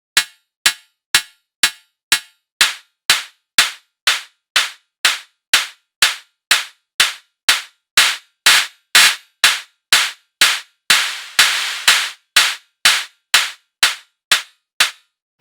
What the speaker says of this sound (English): how to make kick, hats and claps in Serum, the fundamental basics of how to start to generate those sounds